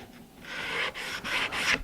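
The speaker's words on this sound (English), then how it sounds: "taking your gooseneck and getting in here, scraping it good, a little sanding" A gooseneck scraper rasps across wood in a pie crust edge, several drawn-out scraping strokes close by with brief pauses between them, no voices.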